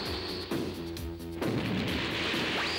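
A cartoon laser gun fires in a sci-fi space series, a loud blast followed by a crackling burst and a second sharp shot, with a continuous noisy roar throughout.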